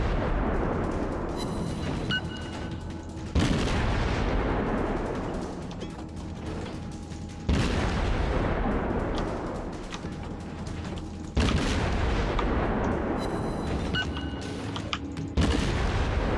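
Naval artillery salvos in the World of Warships game, with four loud booming shots spaced about four seconds apart, each decaying into a rumbling tail, with mechanical turret clatter in between.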